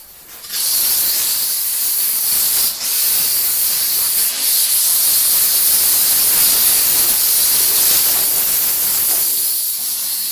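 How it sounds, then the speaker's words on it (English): A loud, steady hiss of steam from a 125 PSI steam cleaner spraying a car continuously, broken by a couple of brief dips, then fading near the end. "We come back over here, we'll go steam."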